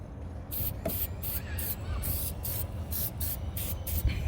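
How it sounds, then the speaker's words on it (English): Aerosol battery terminal anti-corrosion spray hissing in a series of short bursts, about a dozen quick pulses in a steady rhythm, close up over a low background rumble, on a Ford 7.3L F-250/F-350 battery. "spray it on here like this."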